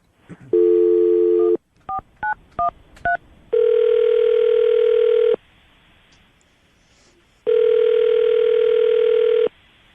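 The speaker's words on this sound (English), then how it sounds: "We're gonna call him right now and see if we can get him on the phone" A telephone call goes out: a steady dial tone, a quick run of keypad tones, then two long ringback tones with a pause between them, all clear and close without talk.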